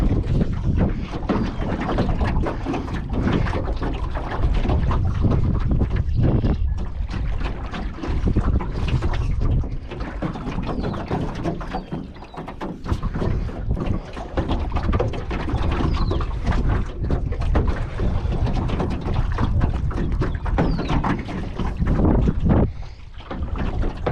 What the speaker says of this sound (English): The wind is fighting us hard.